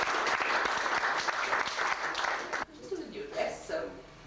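A crowd at a 1989 Christmas in July fundraising party applauds, a dense wash of clapping that is loud at first, then breaks off partway through as voices and laughter take over.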